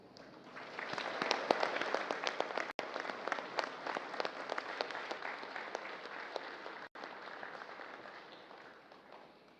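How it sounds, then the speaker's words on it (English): Audience at an armed forces change of command ceremony applauding the arrival of the President of the Philippines, dense sustained clapping from a large crowd that swells and then slowly tapers off. "please welcome with a warm round of applause"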